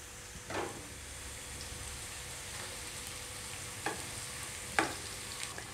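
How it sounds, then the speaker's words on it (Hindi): Onions frying golden brown with nigella seeds in oil, a steady low sizzle with a few soft stirring scrapes, fairly quiet and close. "और प्याज जो है हमारे, हम इन्हें गोल्डन ब्राउन कर लेंगे।"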